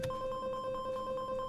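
Bright synthetic tones from an FL Studio 3xOSC synth run through an arpeggiator, alternating rapidly and evenly between two notes an octave apart in a steady, quick pulse, close and clean with no talking.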